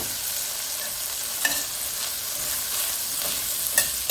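Leftover ham sizzling in a pan with parsley, basil, black pepper, red pepper flakes and oregano, stirred with a few light scrapes over a steady, close frying hiss.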